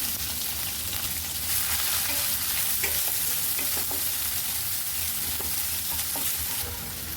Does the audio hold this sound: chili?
yes